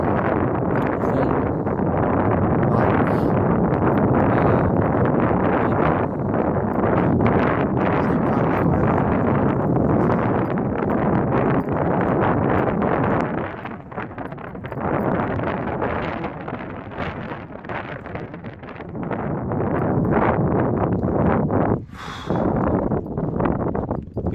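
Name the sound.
strong wind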